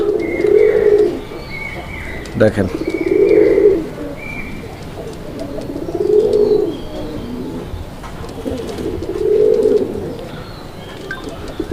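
Raj-golla pigeons coo in slow, repeated low rolling phrases at steady intervals, close and clear, with a brief spoken word partway through.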